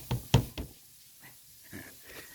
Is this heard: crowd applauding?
no